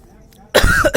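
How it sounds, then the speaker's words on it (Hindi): A man with a cold gives a single rough, close cough after a brief quiet moment. "आज थोड़ा जुकाम हो गया इसलिए खांसी हो जा रहा है बीच में"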